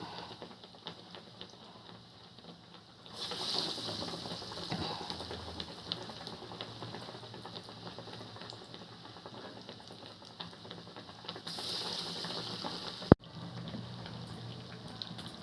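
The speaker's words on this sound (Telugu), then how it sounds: "గారెలు ఎర్రగా వేగుతున్నాయి" Masala vadas frying in hot oil, a steady close bubbling fizz that continues throughout with one sharp click near the end.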